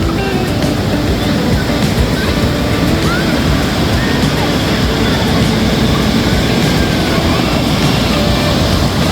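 Ocean surf rolls in at Baler, Aurora, a loud, continuous roar of breaking waves filling the whole stretch without a break.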